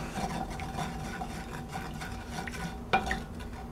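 Wine stirred through a hot pan to deglaze it after cooking lamb chops for saltimbocca, a steady close scraping and stirring over a soft sizzle, with a sharper clatter near the end.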